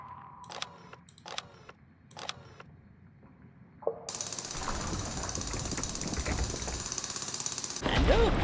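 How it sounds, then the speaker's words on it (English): A Rock Raiders video game sounds a few short mechanical clicks and chimes, then a loud, continuous grinding rattle as a vehicle drills into a rock wall, ending in a sharper burst. "I think I have to drill these walls instead."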